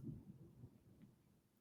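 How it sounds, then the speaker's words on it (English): A low, distant rumble of thunder rolling and fading over a moment, faint and muffled. "it's thundering outside."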